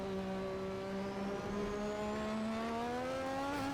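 A turbocharged classic Formula 1 car engine revs hard in an F1 racing game at the Singapore street circuit, a loud, steady, high-pitched whine climbing gradually in pitch, heard alone and continuous throughout.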